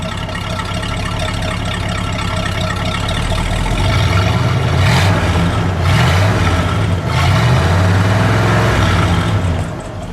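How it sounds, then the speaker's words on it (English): A 1972 Lincoln Continental Mark IV V8 revs behind the car, a deep exhaust rumble that swells into a few throttle blips midway before settling back, loud and close with no talking. "We'll end with a little exhaust note."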